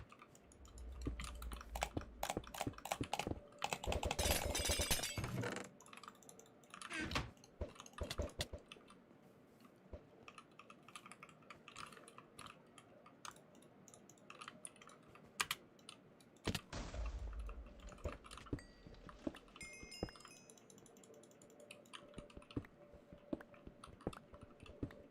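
Rapid clicking of a computer keyboard fitted with new keycaps, typed close up in uneven bursts with brief pauses, louder flurries near the start and again midway.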